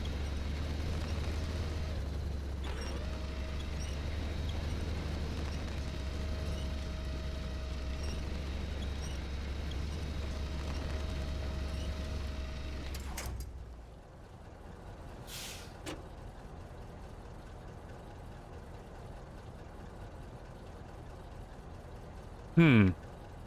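Steady low rumble of a truck engine in the off-road game SnowRunner, a droning hum that runs for about fourteen seconds before cutting off, followed by quieter background noise and a few brief knocks.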